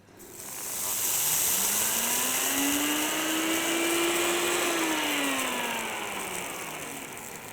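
A kitchen blender grinds linseed in one continuous blast of about seven seconds, a loud close whirring roar with a motor whine that rises and then settles, and no voices over it.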